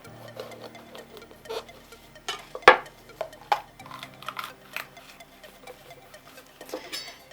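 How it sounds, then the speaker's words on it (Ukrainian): A knife cutting a bell pepper to remove the core makes soft taps and clicks on a board at an irregular pace, with one sharp knock partway through, close and fairly quiet. "Я ось так його розріжу, щоб вийняти серцевину."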